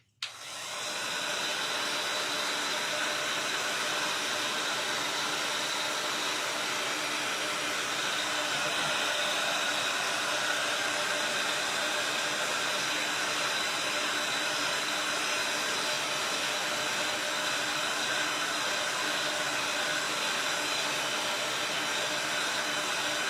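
A hair dryer blows steadily on drying paste on an upcycled Amazon mailer basket for a spring craft, a loud continuous whirring hiss that starts abruptly and runs unbroken with no talking.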